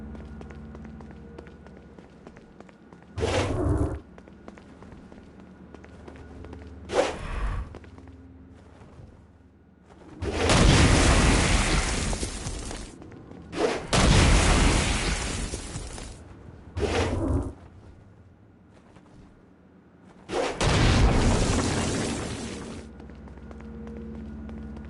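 Blast power explosions hit demons in the video game Saints Row: Gat Out of Hell, with six loud, booming bursts of varying length, some short thumps and some longer rumbling blasts, separated by quieter stretches.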